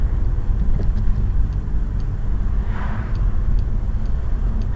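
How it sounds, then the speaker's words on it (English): A car engine idles steadily while descending the Mount Washington Auto Road, gears holding the car back; a constant low rumble with faint ticking fills the cabin, heard close and alone. "right now the engine's not working, it's just an idle."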